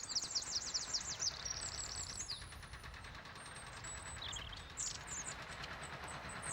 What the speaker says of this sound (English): There should be about, there's a wren there.